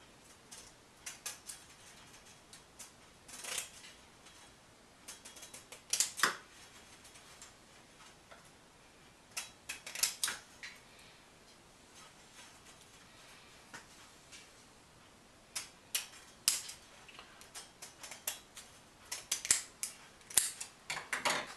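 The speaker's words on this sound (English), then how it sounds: "Cuts fairly easily with a pair of old scissors." Old scissors snip through radiator bug and rock screen on a Mazda B4000, giving short clusters of crisp, close metallic cuts separated by quiet pauses.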